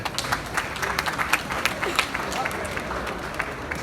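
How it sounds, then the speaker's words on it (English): Crowd applause at a political party stakeholders forum, with scattered claps, steady and moderately loud, mixed with some voices in the room. "they deserve a very big round of applause"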